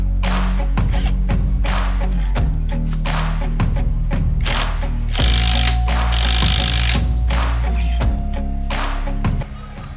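A power tool drives a screw into a motorcycle engine during a timing setup, giving repeated sharp whirring bursts and clicks over a steady mechanical hum, loud and close, with speech between the bursts.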